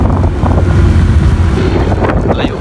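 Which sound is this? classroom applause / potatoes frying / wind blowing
wind blowing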